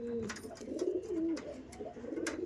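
Kalanka pigeons cooing in soft, low repeated calls close by, with faint chirps over a quiet background.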